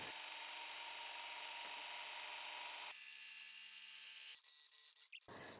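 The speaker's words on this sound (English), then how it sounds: "During the process, the Ganiza could smoothly maintain a consistent low speed and draw the ingredients into its plate" Ganiza immersion hand blender running at a steady low speed through egg yolks and oil for mayonnaise, a constant high motor whine that drops in pitch midway, then a few brief sputtering pulses before stopping.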